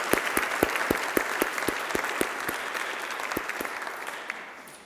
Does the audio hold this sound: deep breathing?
no